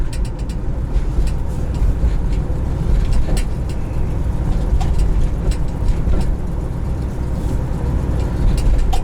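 A 1980 Pontiac Firebird Trans Am cruises down a main street, its engine giving a steady low rumble heard close from inside the car, with faint ticks and rattles and no talk.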